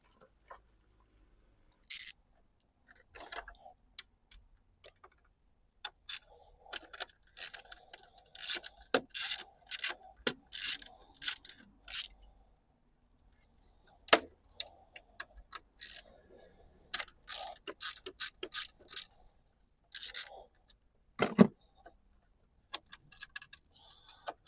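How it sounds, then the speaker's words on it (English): Two screws being undone on a Peugeot 3008 during repair work, heard as scattered metallic ticks, scrapes and rubbing clicks of a tool in short bursts separated by quiet pauses, close and fairly soft. "First of all, I'll remove these two screws."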